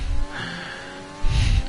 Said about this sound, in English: We're going to see Fred and Lasco really revving up his Renault